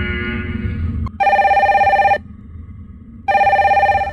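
Electronic alarm on a space station: two loud bursts of steady, bell-like ringing, each lasting about a second, separated by a short pause, close and alone.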